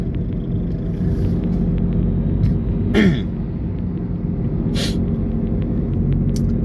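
A car being driven, with a steady low engine and road rumble throughout and a brief throaty knock or cough-like sound near the middle.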